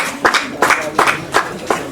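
Wedding guests clapping in bursts, about five loud hand claps spaced roughly a third of a second apart, close by, with faint voices underneath.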